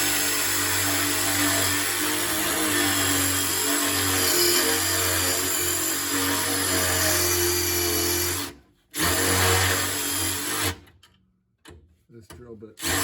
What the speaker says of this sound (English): I'm on to a drill bit next because I can't get this thing out of here.